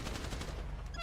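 A rapid burst of video game gunfire striking vehicles, close, sharp and repeated, with faint game effects.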